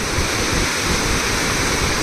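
Ghod river in full flood after dam spillway release, a loud steady roar of rushing water, dense and continuous throughout with no pauses.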